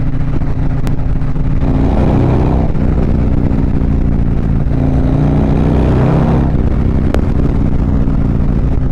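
A motorcycle cruises at about 55 in the wind, its steady engine drone mixed with loud, continuous wind roar that stays unbroken from start to finish.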